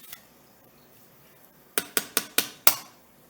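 Two eggs cracked against a bowl while preparing a sweet potato casserole: a quick run of five sharp, close clinking taps, the last one loudest, after a near-silent pause.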